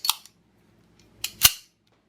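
A Browning Hi-Power pistol fitted with a Type 2 sear lever trigger clicks as the trigger is pulled, two sharp, close metallic snaps with brief quieter ticks between, in an otherwise silent room.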